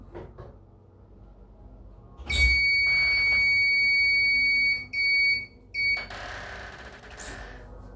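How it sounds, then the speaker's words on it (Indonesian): A loud, steady electronic buzzer on a microcontroller project, triggered by an object closer than 5 cm, sounds for a couple of seconds, then gives two shorter bursts before stopping, with faint clicks and background noise around it. "maka buzzer akan berbunyi"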